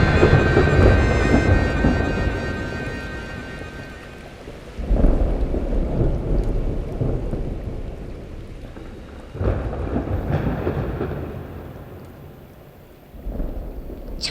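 Heavy rain pours steadily while deep thunder rumbles roll in several long waves, loud and close, swelling and fading as a dramatic storm effect with no voices.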